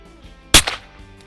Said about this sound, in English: we're gonna shoot the 300 Win Mag now